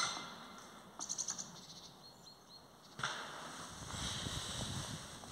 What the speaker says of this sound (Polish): A tu gdzieś słychać dzięcioła.